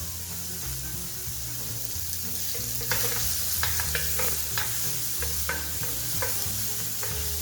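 Vegetables stir-frying fast over high heat with a dash of sesame oil, a steady loud sizzle with repeated scraping and clacking of a utensil tossing them in the pan.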